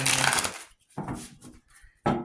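Tarot cards are shuffled in three quick riffling bursts separated by brief pauses. The sound is close and soft.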